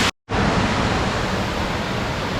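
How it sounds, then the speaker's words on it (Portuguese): Waterfall at Lago Azul in Jaguariaíva, Paraná, heard near its head as a loud, steady rushing roar of falling water, cut by a brief dropout at the start. "Aqui é a cabeça da cachoeira, tá vendo?"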